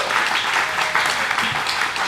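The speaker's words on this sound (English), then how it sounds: "if you could please join me giving them a round of applause" A crowd applauding, dense steady clapping from many hands that fills the room without pause.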